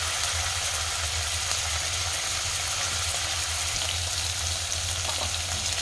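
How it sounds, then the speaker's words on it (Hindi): Paneer frying over a high flame in hot oil in a pan, a loud, steady, dense sizzle with a low rumbling undertone, continuous throughout without any talking. "पनीर को फ्राई करके मटर पनीर फ्राई बनाइए"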